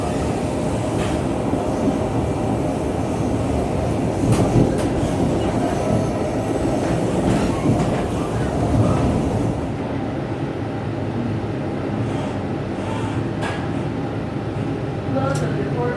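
A Brightline passenger train rolls along near Fort Lauderdale, a loud rumbling ride with rail clatter and brief squeals, easing into a quieter hum partway through, with voices and announcements faintly mixed in.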